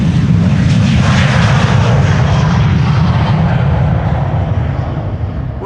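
A Delta Airlines airliner departs Amsterdam Schiphol Airport, its engines a loud, steady low roar that holds throughout with faint voices underneath.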